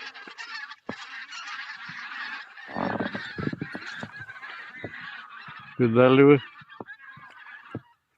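A flock of geese near a pike-fishing spot honks loudly and repeatedly nearby, with one especially loud burst of calls near the end, while a person speaks briefly in Russian over the noise.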